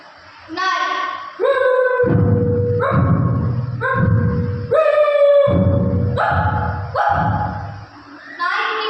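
At a school arts festival mimicry contest, a performer vocally imitates a dog: a rapid run of loud, close barks and yips with brief whining tones between them.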